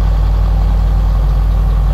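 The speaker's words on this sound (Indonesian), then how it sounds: "Digunakan mesin untuk sembur benih padi." A machine engine used to spray rice seeds across paddy fields in Kedah runs at a steady idle, a loud continuous low rumble with no breaks.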